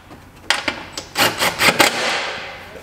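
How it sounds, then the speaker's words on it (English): A socket wrench tightens an M6 bolt on a firewall guard for a Polaris XP Pro, giving a quick run of close, sharp clicking bursts followed by a fading metallic ring. "Well, it's complete when you put the right size socket on there."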